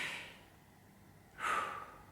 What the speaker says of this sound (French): Je reprends ma respiration, si ça ne te dérange pas.